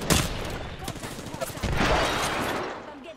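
Rapid bursts of gunfire in the battle-royale shooter Apex Legends, dense and loud, swelling toward the end, with the player's voice heard over it.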